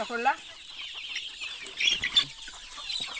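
Chickens cluck in short bursts nearby, with a few sharper calls standing out over a low background.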